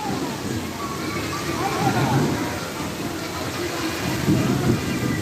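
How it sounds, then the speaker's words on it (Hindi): Heavy rain pours steadily in Siwan during a Bharat Bandh shutdown day, a dense, continuous hiss of downpour with low rumbling beneath, close and fairly loud throughout, no voices heard. "इस बीच बारिश भी हो रही है काफ़ी तेज़"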